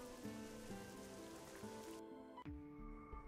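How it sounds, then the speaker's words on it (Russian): Steady rain patters in the Golden Trails 2 video game, a continuous soft hiss beneath layered game music that drops away partway through. "дождь, наверное, идет"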